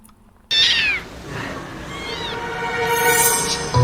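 A small kitten just pulled from a street drain meows repeatedly in a Korean drama scene, with several clear, high, wavering cries up close over light background noise.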